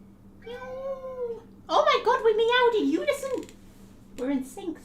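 Two people imitate a cat's meow together during a game of The Outer Worlds, a drawn-out vocal meow followed by a louder overlapping pair of meows and a short final one, close and clear.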